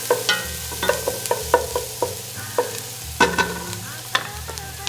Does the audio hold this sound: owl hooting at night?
no